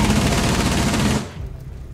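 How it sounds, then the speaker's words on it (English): Rapid automatic gunfire from a multiplayer Rainbow Six Siege match, loud and dense for over a second, then cutting off abruptly to a quieter rumble with faint scattered shots. "They're shooting from tower."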